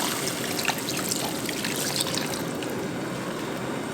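Water pours steadily into a pan with rice cakes, a bright splashing trickle, close and continuous for a few seconds, no talking.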